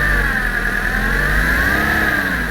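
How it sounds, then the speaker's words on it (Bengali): A 2008 Toyota TRH200 van engine revving up close, a loud, sustained mechanical drone holding a steady raised pitch throughout, with no one talking. "ইঞ্জিনে গ্যাস মারে কিনা দেখেন"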